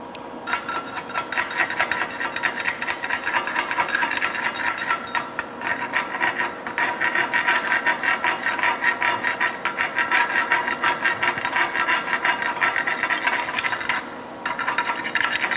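A chipping hammer knocking slag off a padding weld bead during a welding exercise, a dense, continuous scraping and rapid tapping rasp, loud and close, with brief pauses.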